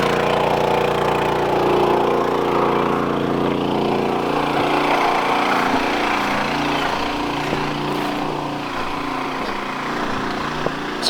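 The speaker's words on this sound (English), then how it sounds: "Got some engine noise, but basically got a filtered suction pump here" An engine-driven filtered suction pump runs steadily at an abandoned racetrack, its small engine a constant buzzing drone with a low hum beneath, close by, and it ends in a faint click.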